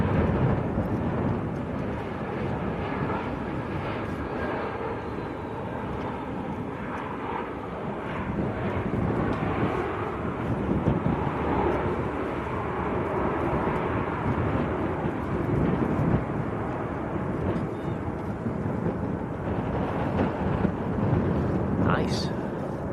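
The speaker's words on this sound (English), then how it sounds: "is another A320. This one's from Frankfurt." A Lufthansa Airbus A320 airliner from Frankfurt at Manchester Airport gives a loud, sustained jet engine roar with broad rumble and hiss that stays steady throughout, heard from a spotting position outdoors.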